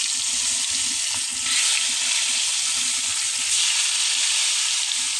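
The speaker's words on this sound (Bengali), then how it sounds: "এখন আমি এই তেলের মধ্যে করে রাখা কুমড়িগুলো দিয়ে দেবো।" Round slices of pumpkin frying in hot oil in a home kitchen, a steady loud sizzle and crackle with a brief dip, continuing throughout without talk.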